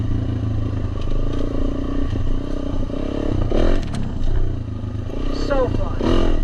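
Dual-sport motorcycle on a hard enduro trail, its engine droning and revving in bursts with rattles and scrapes from rough ground, loud and close, with a voice talking over it.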